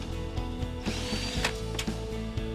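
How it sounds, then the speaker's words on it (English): A power driver whirs and clicks while removing screws from a sheet-metal plenum front panel, a steady mechanical ratcheting hum with repeated short clicks, close and moderately loud. "Remove the screws securing the plenum front."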